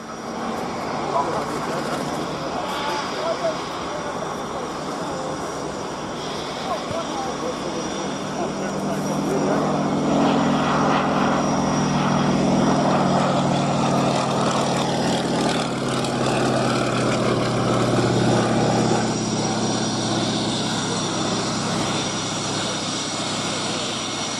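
A Fairey Swordfish biplane's propeller engine drones at an air show, swelling into a broad, loud rumble at mid-pass before easing off, with crowd and commentary noise underneath.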